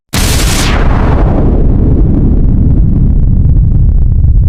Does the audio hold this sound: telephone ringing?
no